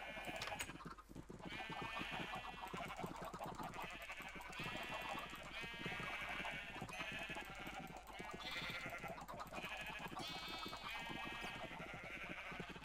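Sheep in Minecraft bleat repeatedly, a series of wavering baas in an irregular rhythm over a steady low background hum.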